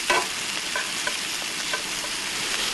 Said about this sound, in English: It's a sausage, zucchini and spud night tonight on the gas.